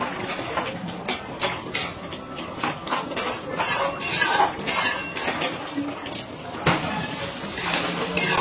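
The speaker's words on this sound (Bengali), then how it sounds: "সবকিছু ভালো করে মিশিয়ে নিচ্ছি।" A spoon scrapes and clinks against a pan while potato curry is stirred with sugar and ghee, producing rhythmic metallic knocks and scraping under faint background talk.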